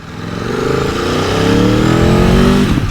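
An Aprilia sports touring motorcycle revs hard and close, its engine note climbing steadily through the gears with a rising whine and growing louder, no talk over it.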